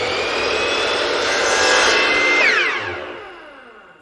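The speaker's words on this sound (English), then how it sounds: "With the material already ripped to width, we can trim it to length at the compound miter saw." Compound miter saw trimming ripped hardwood to length: a loud whining motor spins up, a single rough cut through the wood, then the blade winds down, falling in pitch and fading.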